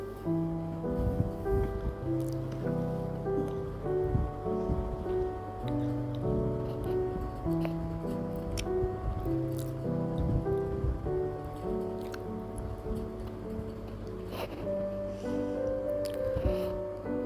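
Onion paste fries in oil in a pan with a continuous soft, wet sizzle and crackle, close and fairly quiet, with occasional sharper pops; no talking is heard.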